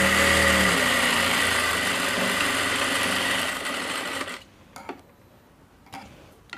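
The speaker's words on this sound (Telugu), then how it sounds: "ఇలా పట్టుకుని ఇప్పుడు ఈ నడుం దగ్గర కుట్టు కూడా కుట్టేసుకోండి." A sewing machine stitches the side joint of a blouse at the waist, a steady loud mechanical whir for about four seconds that then cuts off, leaving a few soft handling clicks.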